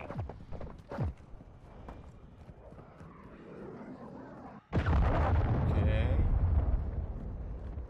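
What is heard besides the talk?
cruise missile explosions in the video game Call of Duty MW II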